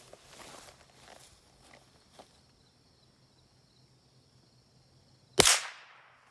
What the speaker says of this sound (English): So we're going to start small with a bolt action 22